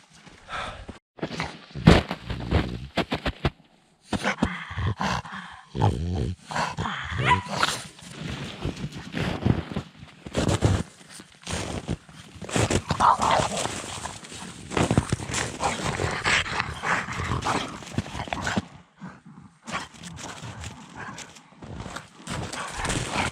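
Bulldogs romp and scuffle outdoors on tractor-cleared ground, with quick paw thuds, panting and occasional sharp yips close by; the activity keeps going in bursts throughout.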